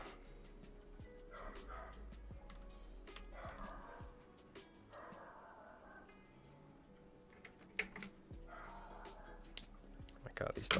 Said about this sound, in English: dogs, dude. They just bark nonstop.